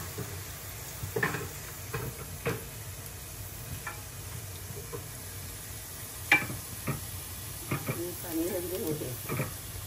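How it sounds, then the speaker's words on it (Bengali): Hot oil sizzles in a pan for a drumstick (moringa) curry: a soft, steady frying hiss with scattered pops and ticks, and faint voices now and then. "প্রথমে আমরা তেল ভাজতেছো, ভাজলাম আজকে।"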